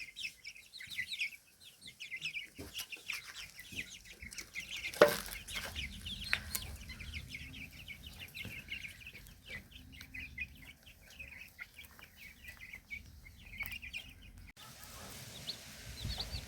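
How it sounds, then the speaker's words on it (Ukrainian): Young chickens in a cage cheep and cluck steadily up close, a busy flock chattering in overlapping high calls, with a brief clatter partway through. "Трішки більших курчаток ми переселили в кліточку."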